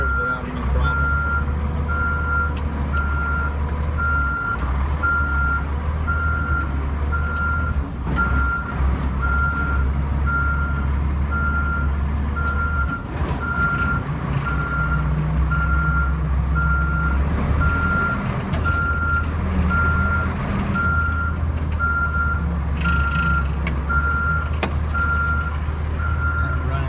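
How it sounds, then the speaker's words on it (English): A Caterpillar 140G motor grader driving on a runway, its heavy diesel engine rumbling loudly and steadily while a reversing alarm beeps in an even repeating pattern throughout. "I'm going to try to show that the motor grader will shift through all the gears without any problem."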